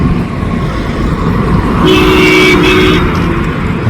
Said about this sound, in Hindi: गाड़ियां बहुत ही स्मूथ चल रही हैं